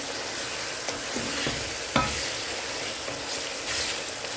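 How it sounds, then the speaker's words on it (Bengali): Garlic, onion, tomato and green chilli fry and sizzle steadily in a pan, with occasional soft knocks and scrapes of a spoon stirring them, close by and with no talking. "রসুনের সাথে পেঁয়াজ, টমেটো আর কাঁচামরিচ ভালো করে করে নিচ্ছি, কষিয়ে নিচ্ছি।"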